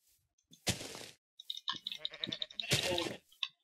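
Sheep bleat in Minecraft survival mode, with two loud, close bleats separated by game sound effects and a short, choppy pattern of hits.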